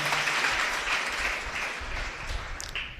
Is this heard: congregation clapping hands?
yes